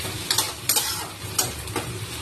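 Onions, green chillies and dal being stir-fried in hot oil, a steady close sizzle broken by four or five scraping strokes of a spatula against the pan.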